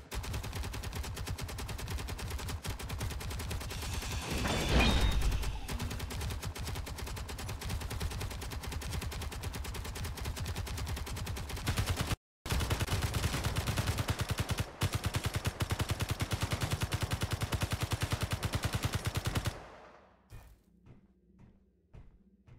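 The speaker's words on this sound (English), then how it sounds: "I'm shooting it from here" Rapid automatic gunfire in the Space Engineers video game, a dense rattling stream of shots lasting many seconds with one brief gap, then a few scattered distant thuds as the shooting stops.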